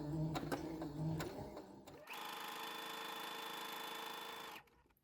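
A sewing machine stitches a seam in chiffon fabric with a sharps needle and loosened tension, a steady close whirring hum running for a few seconds after some faint handling clicks, then stopping.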